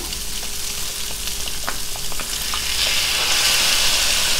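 Chopped onion frying in a pan for a one-pan sausage pasta dinner, a steady crackling sizzle that swells louder partway through, with a few sharp pops and stirring scrapes, heard alone.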